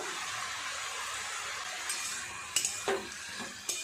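Mixed vegetables with turmeric, chilli, cumin powder, ginger paste and salt sautéed in a pan, a soft steady frying hiss with a few sharp scrapes and clinks of a spoon stirring toward the end.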